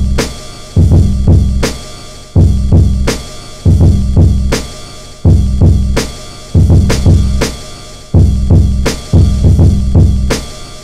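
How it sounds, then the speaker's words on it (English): A sampled drum break played on an Akai MPC with boosted kick drums: heavy, thudding kicks and crisp snares in a steady looping groove, loud and up front with no voices. "you're going to really hear this kick drum thud now"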